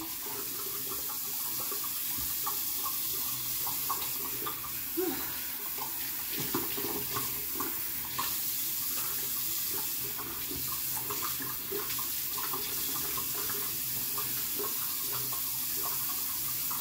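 Water runs steadily from a tap into a sink as a face cloth is wetted, a constant splashing hiss with occasional small clinks and shifts in the flow.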